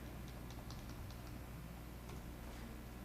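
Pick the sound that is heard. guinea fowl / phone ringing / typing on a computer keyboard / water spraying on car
typing on a computer keyboard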